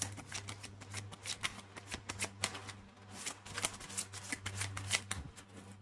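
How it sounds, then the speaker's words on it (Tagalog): A deck of tarot cards being shuffled by hand, a steady run of quick papery riffles and slaps close up, with a low steady hum underneath and no talking. "Ang hirap guys balasahin itong card na to."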